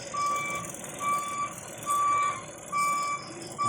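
Backup beeps from a reversing service vehicle on a rural road, four or five evenly spaced electronic tones repeating steadily at moderate distance over a low engine and outdoor background.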